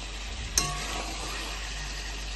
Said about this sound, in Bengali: কষা হয়ে গেছে, এবার আমি একটু গরম জল দেবো